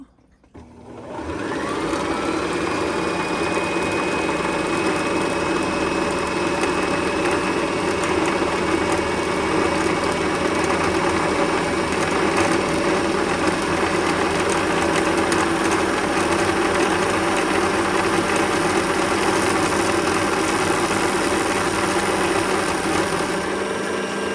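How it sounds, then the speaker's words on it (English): A used Singer 1304 sewing machine winding a bobbin: a motor spins up within the first second or two, then holds a steady, loud, even whir with a faint high whine for over twenty seconds. "We're going to keep winding until the machine stops on its own."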